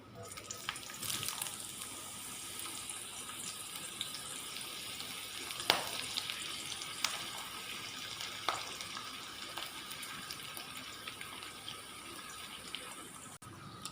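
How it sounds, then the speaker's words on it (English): Chopped red onion and mustard seeds sizzle steadily in hot oil, a constant near crackling hiss with a few sharp pops and spatters scattered through. "Let the mustard seeds splutter in it."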